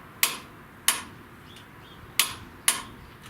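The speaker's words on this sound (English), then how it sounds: "I got my little torque wrench here" A torque wrench tightening front-end bolts on a 1970 Buick Wildcat gives four sharp, close metallic clicks at uneven intervals against a quiet background.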